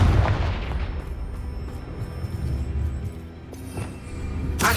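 A Confringo fire spell explodes in the Hogwarts Legacy video game, a loud booming blast at the start that trails into rumbling crackle, with another burst swelling near the end.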